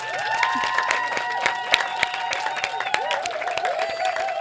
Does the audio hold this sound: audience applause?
yes